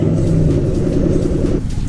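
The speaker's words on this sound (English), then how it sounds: "why don't we hop into the car and listen to it start up?" A Dodge Durango SRT Hellcat in a Southwest Florida Roblox game starts up with a loud, deep, continuous engine rumble that holds steady and eases slightly near the end.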